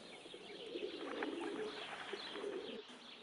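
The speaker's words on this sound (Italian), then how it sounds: "i feral pigeons, noti anche come colombi torraioli o semplicemente piccioni" Feral city pigeons, the kind that nest in wall cracks, coo in a steady, continuous low murmur with scattered higher chirps mixed in, fairly close and with no talking.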